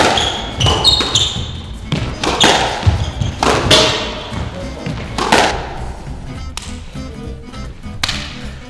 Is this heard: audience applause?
no